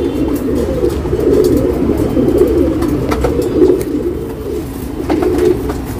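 A blue-eyed male pigeon coos in repeated soft, throaty phrases close by, with faint traffic and engine noise in the background.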